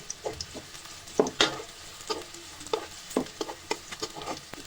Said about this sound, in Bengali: আমি যে পেঁয়াজ কুচি রেখেছিলাম তা থেকে আমি দিয়েছি পেঁয়াজটাকে ভালোভাবে ভেজে নিতে হবে